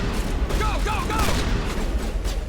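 Shotgun fire during a firefight in Mass Effect Legendary Edition: dense, overlapping blasts and combat noise fill the short stretch, with voices heard amid the action.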